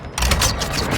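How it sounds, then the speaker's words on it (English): Weapon magazine being swapped in Warzone Mobile, heard as a quick run of close mechanical clicks and metallic rattles layered over dense game noise, lasting about a second. "Changing mag."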